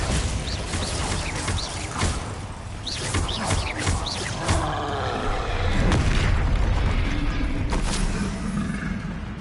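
Bombarda blasting spell going off in Hogwarts Legacy, a dense run of booming magical explosions layered with crackling bursts and whooshing effects through a busy battle, loud and continuous with no speech.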